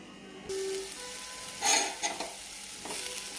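Kasuri methi being stirred into a pan of Jodhpuri moong dal, with a spoon scraping and a soft sizzle running under a few brief clinks, close and fairly quiet.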